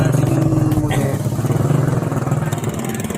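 A motorcycle engine runs close by with a steady, throbbing mid-pitched putter during a flooded typhoon day in Santa Rosa, Laguna, loud and continuous with a faint voice underneath.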